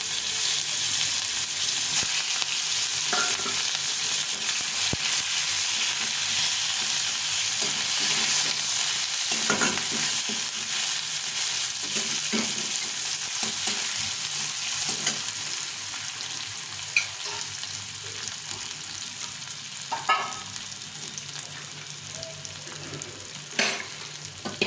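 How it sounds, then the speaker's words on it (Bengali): Onions frying in a pan after black cumin seeds go into the oil, for a mustard-onion fish curry; a steady, close hiss of sizzling oil runs throughout, with occasional soft clicks of stirring. "দিয়ে পেঁয়াজগুলো ভেজে নেব।"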